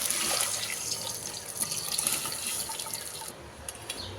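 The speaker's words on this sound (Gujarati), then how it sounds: "જે મોરૈયો છે જે પલાળીને લીધો છે એ પાણી સાથે જ આપણે આમાં એડ કરી દેવાનો છે" Soaked moraiya millet is tipped into a cooking pot along with its soaking water, giving a continuous close pour and splash that tapers off near the end.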